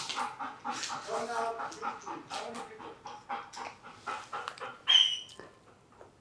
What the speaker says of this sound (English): The dog is off on the ground.